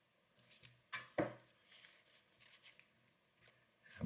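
Wire cutters trimming wire ends during a ZX Spectrum repair, giving a few sharp, close snips around the one-second mark among quieter handling clicks.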